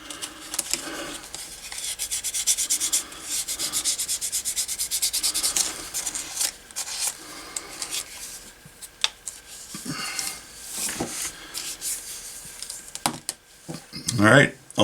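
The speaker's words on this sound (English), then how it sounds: "And a little sanding will help the glue to stick better too." Close hand sanding with sandpaper on a tool chest handle, rough scratchy strokes in bursts and pauses, with a few knocks near the end.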